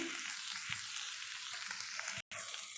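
Grated fresh coconut is stirred into a fasting potato bhaji in a hot pan, giving a steady, quiet sizzle with faint scraping of the spoon and a brief dropout near the end.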